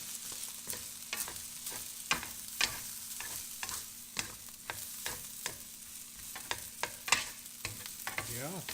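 Rice stirred around a hot pan for Filipino fried rice, a spatula scraping in a steady series of sharp strokes over a continuous close sizzle, with no talking.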